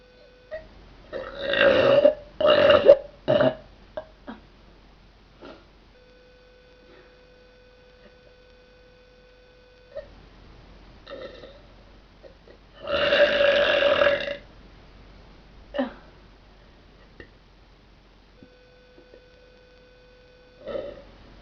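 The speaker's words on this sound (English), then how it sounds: "I need to start burping like a rude person does, because" Several loud, drawn-out burps break a quiet room, two close together at first and a long one later, with a faint steady mains hum running underneath.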